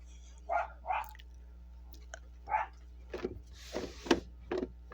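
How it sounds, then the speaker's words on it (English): A neighbor's dog barks outdoors in a series of separate, moderately distant woofs, about eight barks spaced irregularly over a quiet steady hum. "That's my neighbor's dog."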